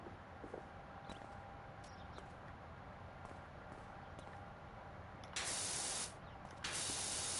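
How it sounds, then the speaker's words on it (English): Pressure washer spraying in the PowerWash Simulator video game: a steady hiss carries through, then two loud bursts of spray, close and alone. "If I just start spraying, eventually it'll clean"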